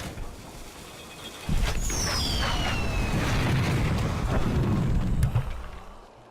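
Dragon powder cannon in the video game Jade Empire fires with a sudden heavy boom, then a sustained low rumbling blast and high whistling streaks, loud and close, fading over several seconds.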